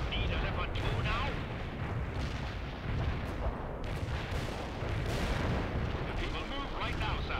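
Artillery barrages and gunfire from the real-time strategy game World in Conflict: Soviet Assault, a dense continuous roar of booms and shots with no pauses, with talk over the top.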